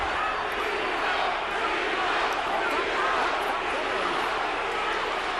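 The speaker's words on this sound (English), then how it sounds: "Crowd chanting, "Be hot."" A packed boxing arena at the Bernard Hopkins vs Winky Wright fight roars with a steady, dense wash of crowd noise, a continuous loud chanting din with no clear breaks.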